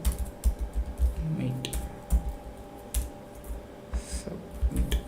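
Computer keyboard typing while entering text for an HTML button, a steady run of close, light key clicks with uneven rhythm; low room noise runs beneath.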